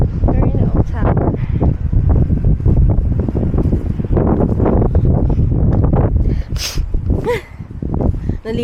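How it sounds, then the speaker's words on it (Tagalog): Strong wind buffets the microphone at an old tower in the port city of Portsmouth, a loud continuous roar and rumble with gusts throughout, while people talk over it. "Sobrang lakas ng hangin."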